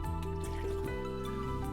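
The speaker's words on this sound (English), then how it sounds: "You can then use the flush" Toilet flush in a Sunlight V69 camper van, a short, steady rush of water with a tonal, hollow ring and small drips, heard close and alone.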